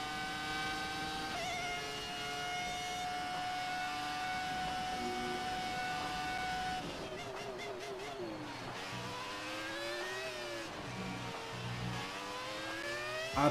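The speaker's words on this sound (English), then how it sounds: "Beautiful sound from the V8, if I'm not wrong." Ferrari Formula 1 V8 race car at speed, its high-pitched engine scream rising and falling through gear changes and revs, heard somewhat distant and faint but continuous.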